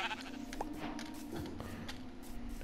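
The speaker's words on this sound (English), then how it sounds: "I do see more sheep though, and I do like sheep." Sheep bleat in Minecraft, a few short cries at moderate level over a steady game ambience with a low hum and occasional footstep-like clops.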